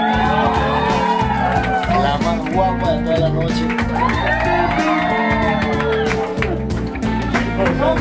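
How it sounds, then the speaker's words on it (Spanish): Wedding guests cheer, whoop and shout for the bride at a wedding celebration, a loud continuous crowd roar over pounding music, with a voice talking through it. "denle un gran aplauso"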